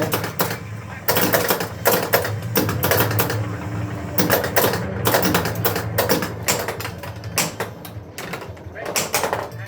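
Busy mechanical clatter of a Rescue 911 pinball machine picking up a second ball, rapid clicks, knocks and rattles running continuously as parts move and reset a ball.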